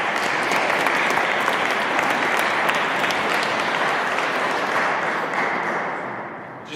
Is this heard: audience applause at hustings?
yes